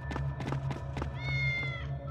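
A cat meows a few times in the video game Tales of Xillia 2, short tonal cries over steady game music and low background hum, fairly close and clear.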